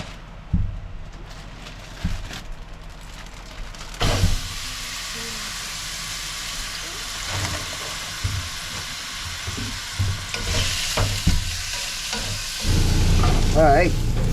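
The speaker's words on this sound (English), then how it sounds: "Go ahead and throw it in that hot grease and we're gonna brown it down really good." Pork chunks browning in hot grease at an outdoor boat camp on a Louisiana lake, with steady close sizzling and intermittent stirring scrapes and clanks throughout, growing louder near the end.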